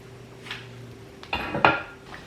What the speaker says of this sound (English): I'm gonna take them out of the oil so the excess oil can drain into the napkin